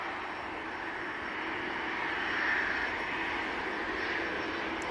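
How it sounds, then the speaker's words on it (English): A Brussels Airlines Airbus A319 arriving at Manchester Airport, its jet engines a steady broad roar at moderate distance that swells slightly midway and holds without a break. "Brussels Airlines A319 coming in from Brussels."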